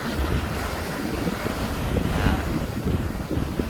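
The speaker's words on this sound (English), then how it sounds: "Just waiting on the waves to come through." Ocean surf rolling in to shore at Deep Creek National Park, a steady broadband wash of breaking waves with wind buffeting the microphone, continuous and fairly loud throughout.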